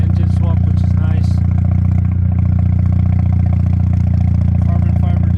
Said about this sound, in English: I'm glad she kept the original rotary engine, man.